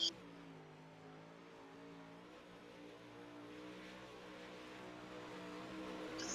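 A UMP modified race car on a dirt oval accelerates out of a turn with a steady engine drone that rises gradually as it builds speed, heard at a moderate distance.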